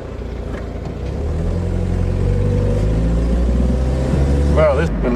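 An old Datsun car driving, its engine droning steadily and growing louder, with a brief voice near the end.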